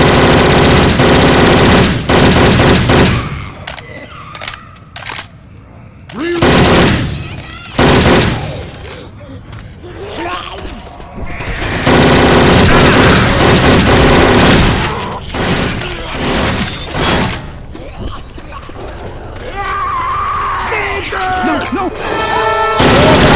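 Rapid, loud gunfire from Left 4 Dead 2 with swapped-in Syphon Filter weapon effects: sustained automatic bursts broken by short pauses, occasional booms and crashes, with game voices calling out over the shooting.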